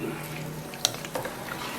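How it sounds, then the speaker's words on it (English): Red chowder is stirred in a pot with added water, giving a soft, wet swishing and one sharp clink of the utensil against the pot, all fairly quiet. "And then I'm going to stir all this together."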